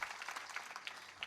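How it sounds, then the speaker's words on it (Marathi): Listeners at a kirtan clap for the children in a faint, distant and steady patter of applause with no voices over it. "लहान बालकांसाठी जोरदार टाळी वाजवा."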